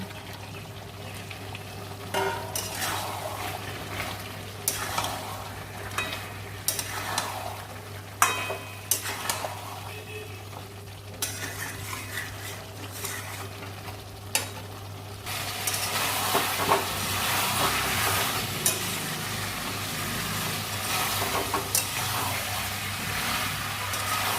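Goat meat curry with potatoes sizzling in a pan while being stirred, with steady frying hiss and repeated scraping strokes of the spoon, growing louder and busier toward the end.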